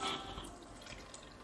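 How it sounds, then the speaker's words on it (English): Milk poured into a container while making a weight-gain drink, a steady liquid trickle with small splashy drips, close and alone. "I'm just going to pour all the milk into this"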